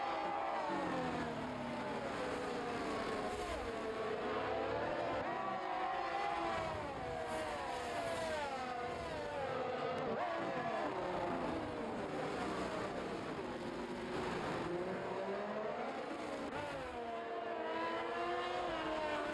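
Race cars circling during a full-length race in Australia, a steady layered drone of engines rising and falling in pitch as several cars pass, moderately distant, continuous throughout with no talk.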